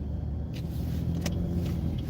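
A car rolls slowly over speed bumps in rush-hour traffic, giving a steady low rumble from inside the cabin with a couple of faint knocks or thuds as the wheels ride up and down, and no talking.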